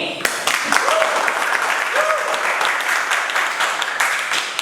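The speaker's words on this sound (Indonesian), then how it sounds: "sekarang kita beri aplaus dulu untuk temannya yang sedang mempresentasikan hasil diskusinya hari ini" Classroom applause for a student presenting group discussion results in a sociology lesson, a steady dense clapping from the class that holds loudly throughout, with a voice briefly audible over it.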